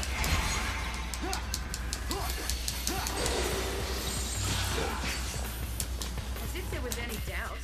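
A horse in the Final Fantasy 13 video game neighs in a few short whinnies amid dense game effects and music, while a player talks over the action.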